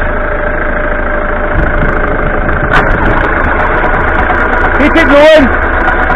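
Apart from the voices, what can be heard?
1989 Ford Fiesta Ghia engine starting and idling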